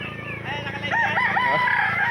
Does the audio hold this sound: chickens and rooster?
yes